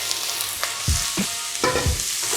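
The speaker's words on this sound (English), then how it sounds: "Just gonna give that a stir fry for about 2 minutes, all right, until it softens up a little bit." Diced onions sizzle and crackle in very hot oil as they are stir-fried for pork fried rice, a constant close frying hiss broken by a few soft stirring scrapes.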